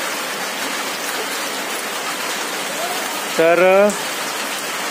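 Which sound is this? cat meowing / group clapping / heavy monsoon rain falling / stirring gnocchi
heavy monsoon rain falling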